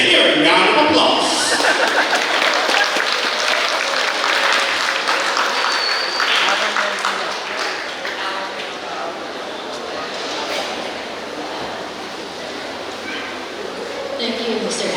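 A graduation audience applauds the principal at a school ceremony, a loud, sustained round of clapping that slowly eases in intensity, with scattered chuckles and crowd murmur mixed in.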